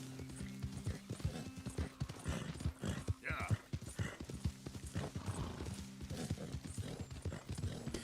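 Horse hooves clip-clopping in the video game Red Dead Redemption, an irregular rhythmic series of close thuds at a walking or trotting pace, fairly quiet, with a brief whinny-like sound partway through and faint talk mixed in.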